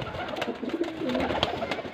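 A pigeon at a pigeon fancier's loft coos in low, soft, rolling phrases, close by, with faint background noise and no speech.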